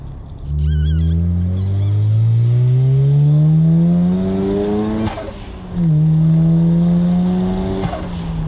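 A 400-horsepower Mazda FC RX-7 sports car engine revs up hard through a long rising pitch, drops as it shifts gear, then climbs again, loud and close.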